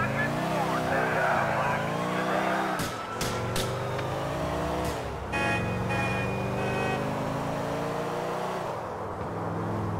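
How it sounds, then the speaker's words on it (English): A car in GTA IV spins out, its engine revving and changing pitch, with sharp tire skids and squeals in the middle, while in-game voices talk over the chase. "I'm spinning out, man!"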